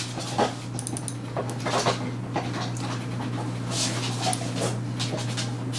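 A dog in the background pants steadily with occasional faint whimpers, moderately close, layered over a constant low electrical hum.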